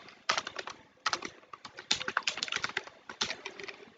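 Rapid, uneven bursts of keystrokes on a computer keyboard while entering values into a Python program, close and clear, with brief pauses between clusters of taps and no talking.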